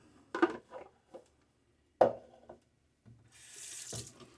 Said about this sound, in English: water on my face one more time